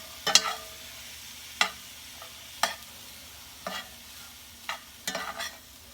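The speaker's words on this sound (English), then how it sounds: "So stir that up." Garlic and spices are stirred in a pan, with sharp spoon scrapes and knocks coming in irregular bursts over a faint low sizzle, close and alone without any talk.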